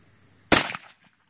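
A single sharp gunshot from a Ruger SR22 firing .22 magnum at a laptop, loud and close, with a short decaying echo afterward.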